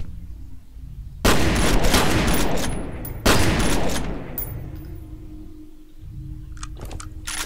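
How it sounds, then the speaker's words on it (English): Two loud, close shotgun blasts in the first-person shooter F.E.A.R. Perseus Mandate, each boom trailing into a long rumbling decay, with quieter game ambience between and afterward. "Takes two shots with a shotgun."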